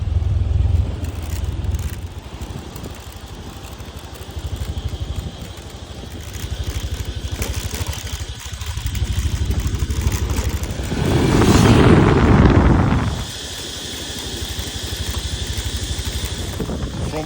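A moped's small engine hums steadily along a hill road, rising and falling with the throttle and swelling into a louder, strained drone for a couple of seconds near the end before dropping back to a lighter, even buzz.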